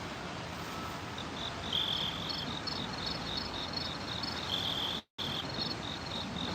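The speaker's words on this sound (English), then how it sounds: "I got crickets." Crickets chirp steadily in short repeated high trills at a moderate distance, outdoors in a neighborhood on the Upper West Side of New York City, over a soft continuous background hiss with a brief dropout.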